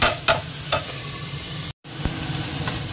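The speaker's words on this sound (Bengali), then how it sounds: "একটু ভেজে নাড়িয়ে নেবো, একটু ঢাকা দেবো" Ginger and spices frying and being stirred in a pan, a steady close sizzle with several sharp scraping strokes of a spoon against the pan, no talking.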